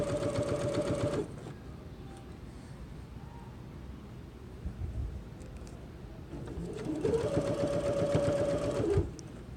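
An electric sewing machine stitches fabric for a zipper pouch, running in two loud steady whirring bursts at the start and end with a quiet pause between, and a bird cooing faintly in the background.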